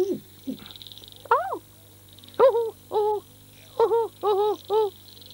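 A person's voice imitating owl hooting, a string of close, tonal hoo calls with rising and falling pitch, a few spaced out then several in quick succession, over a faint steady hum.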